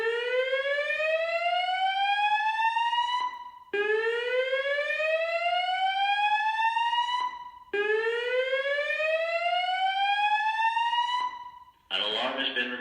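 A building fire alarm repeats a loud rising whoop three times, each sweep lasting a few seconds, with short pauses between them and a brief electronic tone at the end.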